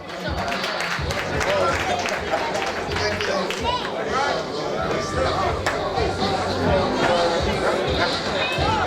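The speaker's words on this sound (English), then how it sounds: "All right, let's clap it up." Banquet audience applauding with steady, sustained clapping under loud crowd chatter and cheering throughout, fairly close and dense.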